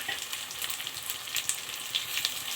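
Green chillies frying in hot oil with ginger-garlic paste for bagara rice give a steady, close sizzle with scattered sharp crackles and pops throughout.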